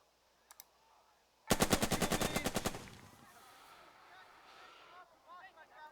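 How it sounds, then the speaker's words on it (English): Machine gun fire in the tactical game Burden of Command: a single sharp, rapid burst of evenly spaced shots lasting about a second, preceded by faint clicks and followed by a lingering low rumble and quiet ambient battlefield noise. "So let's start by opening up with this machine gun."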